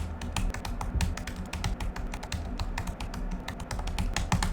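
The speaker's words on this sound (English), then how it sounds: "typing the colors" Continuous rapid typing on a computer keyboard, a dense patter of close clicking keystrokes with no talking.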